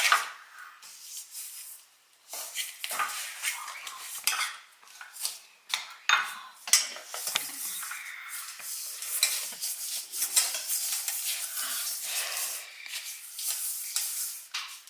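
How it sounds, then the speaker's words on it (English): A fork scrapes and clinks steadily against a bowl while softened butter is stirred into a crumb mixture for chocolate chip crumb cake; the busy, close scraping runs throughout with no talking. "All right, Bryson, you're going to stir that up with that fork."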